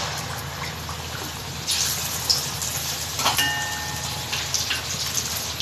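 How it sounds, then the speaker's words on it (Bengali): Lentil fritters or onions fry in hot oil, giving a steady, fairly loud sizzling hiss with faint crackles throughout and no voices. "আমি ডালের বড়া বা পেঁয়াজ ভেজে নিচ্ছি"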